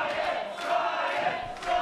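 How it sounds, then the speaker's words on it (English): A wrestling crowd at an indoor showcase event cheers and shouts together in a sustained, loud roar that swells and dips slightly throughout. "The crowd firmly behind Science Guy Jim Nye as he's valiantly waking his way up"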